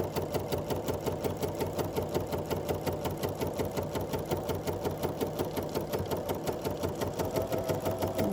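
A Bernina sewing machine stitching a quilt block with dual feed engaged, running in a fast, even mechanical rhythm that stays close and continuous throughout with no talking.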